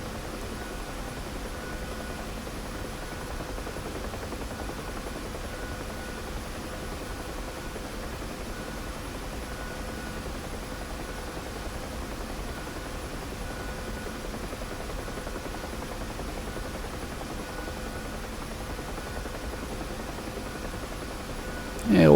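A UH-1 Huey helicopter flies in the DCS flight simulator, a steady droning rotor and turbine rumble running continuously at moderate level, with a voice talking over it.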